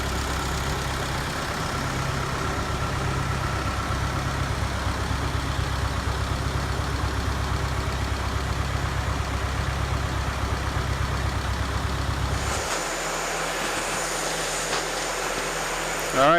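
A rebuilt Ford 9N tractor engine idles steadily at close range with a low, even chug for about twelve seconds, then its tone shifts lower and quieter near the end.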